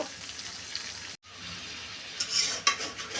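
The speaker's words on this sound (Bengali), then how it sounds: "এবার তেলে পাঁচফোড়ন দিয়ে দিলাম। পাঁচফোড়ন ভাজা হয়ে আসছে" Panch phoron spices sizzle in hot oil after prawns have been fried, with a steady crackling hiss, a brief gap, then louder bursts of spattering as the pan is stirred.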